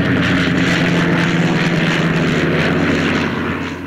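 A World War I fighter plane's engine and propeller give a loud, steady, close droning roar with no break, tapering off slightly at the very end.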